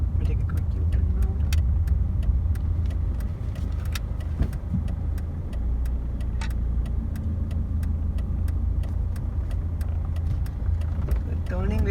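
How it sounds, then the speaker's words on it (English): A 2002 Mercedes-Benz C200 CDI W203 diesel sedan makes a U-turn, its engine a steady low hum from inside the cabin with rhythmic ticking, likely the turn indicator, throughout. "Let me take a quick U-turn now."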